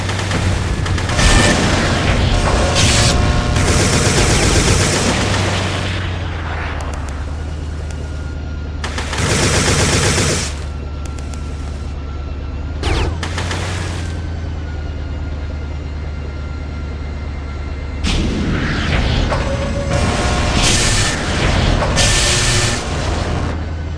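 Lock-on missiles launch and explode in the 1999 video game Recoil, with heavy booms and dense blasts rolling over a constant low engine drone, surging and easing in waves across the stretch.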